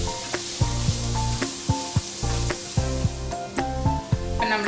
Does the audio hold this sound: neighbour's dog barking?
no